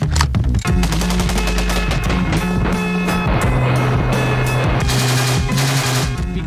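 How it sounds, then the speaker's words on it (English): AR-15 rifle fitted with a bump stock firing rapidly, a loud, dense, continuous burst of shots filling the whole stretch without pause. "here it is, the AR-15 with a bump stock"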